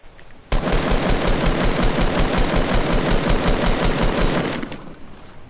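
Sustained rapid gunfire at a base in a video game, starting abruptly and hammering continuously for about four seconds before fading, loud and alone with no talking over it.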